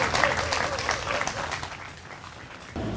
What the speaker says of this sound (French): Applaudissements nourris pour elle.